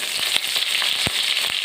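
Mustard seeds, curry leaves and green chillies sizzle in hot oil for pumpkin kootu. A dense, close hiss is broken by scattered sharp pops and crackles from the seeds.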